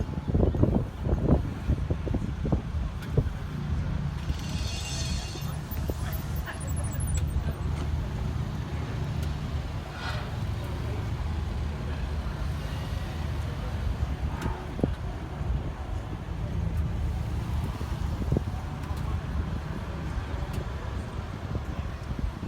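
A SEAT Leon Cupra 300 hot hatch on a test drive, steady engine and road rumble with wind noise from inside the car over a long stretch.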